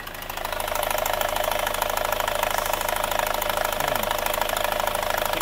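An overhauled van engine idles steadily up close, its rough drone carrying a fast, even tapping from a knocking valve lifter throughout.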